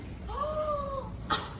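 A black cat gives one drawn-out, rising-then-falling meow at close range, followed by a short sharp sneeze-like burst, in a quiet indoor room.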